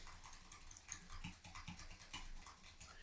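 Computer keys are pressed in quick, uneven bursts of soft close clicks with small pauses between them, and no one talks.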